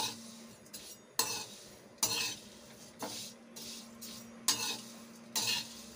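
Vermicelli dry-roasts in a pan and is stirred, making a faint steady rustle with a regular series of scraping utensil strokes about once a second, close and alone with no voices.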